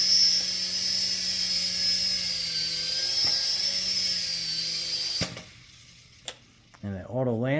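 A DEERC 2.4GHz remote control toy helicopter hums with a steady high-pitched rotor whine while hovering, then cuts out abruptly around five seconds as it lands, followed by a couple of light clicks and a brief voice.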